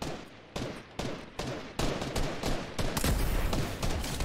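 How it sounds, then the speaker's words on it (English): Rapid gunfire in the Fortnite video game, sharp cracking shots coming in irregular bursts that grow denser and louder toward the end, with a background din running continuously beneath them. "What are you shooting at?"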